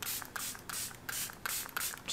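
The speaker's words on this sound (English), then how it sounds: "I'm gonna use the Euphoria setting spray," Euphoria makeup setting spray hisses out in a series of short, quiet pumps, each a brief airy puff close to the ear, coming in an uneven rhythm over two seconds.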